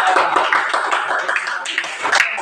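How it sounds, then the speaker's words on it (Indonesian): A classroom of students applauding a student group, loud close clapping from many hands in a dense, uneven patter that continues throughout. "Luar biasa, aplaus untuk kelompok ini"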